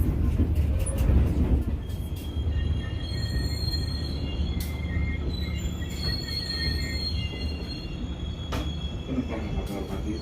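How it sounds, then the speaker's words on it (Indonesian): The Serayu passenger train pulls into Cibatu station with a steady rumble of rolling wheels and metallic squeals and clanks over the rails. The sound is loud and close, and faint voices can be heard beneath it. "kereta api Serayu telah tiba di stasiun Cibatu"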